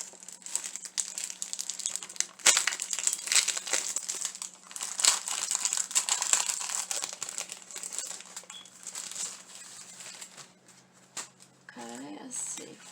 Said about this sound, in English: Once I figure out how to open these stickers.